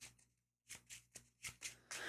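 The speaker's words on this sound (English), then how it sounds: "Okay, shuffle that back in." Playing cards shuffled back into a deck during an Arkham Horror card game, heard as a series of about six quick, close riffling bursts with a brief pause early on.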